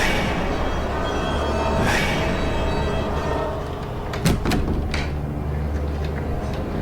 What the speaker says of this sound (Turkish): Lan kapıyı açıyor.